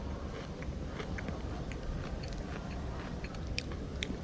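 Close-up crunchy chewing on a crispy, greasy Belgian kip corn snack, with small sharp crackles scattered through a soft steady mastication noise, no talking.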